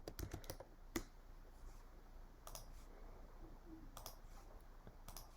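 Words typed on a computer keyboard, quiet close key clicks in short bursts separated by pauses, faint against a hushed room.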